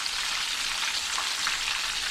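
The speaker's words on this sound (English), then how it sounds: "let the oil come back up to temp, and I'm going to refry all of it" Steady, close sizzling and crackling of fish being refried in hot oil, a continuous bright hiss with no talk.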